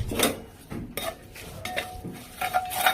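Spices (asafoetida, turmeric, red chilli powder) being stirred into onions and curry leaves in hot oil in a pan, with a spoon clinking and scraping against the metal in several close, irregular strokes.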